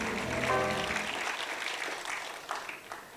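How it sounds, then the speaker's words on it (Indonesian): Church congregation applauding during an Indonesian sermon, a broad wash of clapping that starts with a voice or music tail underneath and slowly thins and fades over a few seconds, moderately distant and fairly quiet. "Berikan tepuk tangan yang meriah buat Tuhan."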